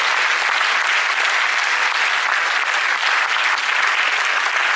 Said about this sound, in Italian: la accogliamo con un applauso